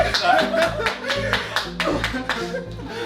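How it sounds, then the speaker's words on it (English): Applause after a Rubik's Cube magic trick at a London performance: a run of sharp, evenly spaced, close claps over voices and a low tonal background. "Give him a round of applause."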